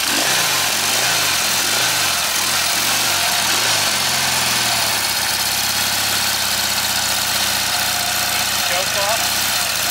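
A 1971 Norton Commando Roadster motorcycle engine being kick-started, with a few loud kick-over thumps before it catches and settles into a steady, loud, close-up running rumble.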